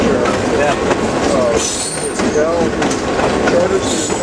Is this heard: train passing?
yes